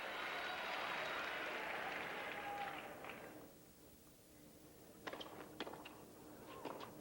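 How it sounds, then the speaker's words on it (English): A tennis crowd at the 1994 Indianapolis ATP match between Edberg and Krajicek bursts into loud applause and cheering that fades after a few seconds, followed by scattered distant claps and shouts. "his crowd now going crazy"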